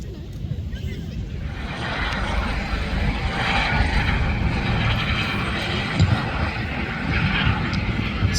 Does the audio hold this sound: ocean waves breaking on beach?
no